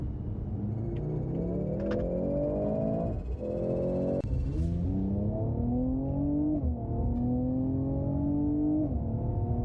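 A new Mercedes C43 W206 four-cylinder and an older C43 W205 V6 drag race, heard from inside one car as the engine revs up steadily through several gear changes, loud and continuous.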